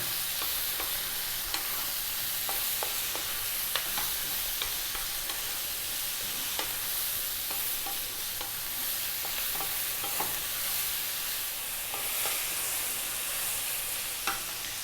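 Steady high sizzle of bean sprouts stir-frying in a wok, with frequent scraping and clanking of a utensil stirring throughout, no voices.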